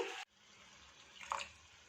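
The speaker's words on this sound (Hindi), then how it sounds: "1 कप पानी इसमें शामिल कर देंगे।" A cup of water is poured into a pan on medium-low heat while making a sandwich sauce, giving a brief splash at the start followed by a quiet, faint trickle and a small clink.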